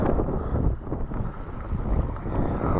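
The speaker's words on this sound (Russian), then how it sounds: "Ну, западный ветер." Westerly wind gusting steadily across an open sea coast on a spit after a storm, a dense broadband rush buffeting the microphone throughout, with no voices.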